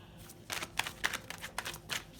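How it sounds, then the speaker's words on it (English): Several quick papery riffles of tarot cards being shuffled, in short bursts with brief pauses between them, close by and fairly soft. "Let me shuffle that a little better, okay? Let's give it a fair shuffle."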